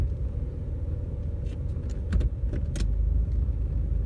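The transfer case lever of a Toyota Land Cruiser 4x4 being shifted into low four-wheel drive, heard as a few short metallic clicks and clunks over a steady idling rumble inside the vehicle.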